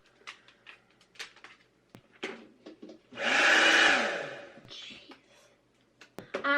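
A handheld hair dryer blows on hair in a broad, loud burst of about a second, set between bursts of a person talking and small handling noises.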